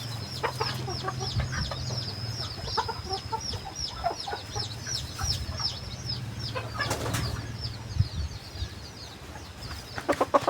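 A small decoy rooster crows and clucks nearby with occasional wing flaps, while a steady chorus of high chirping birds repeats in the background and no one speaks.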